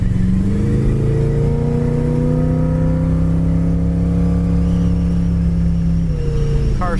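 A 1958 Chevy Impala two-door hardtop drives down the road, its engine droning loud and steady with a gradually rising pitch, then easing off near the end over constant road noise.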